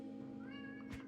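A video-game cat lets out a single soft, rising meow, faint and brief over a low steady background hum.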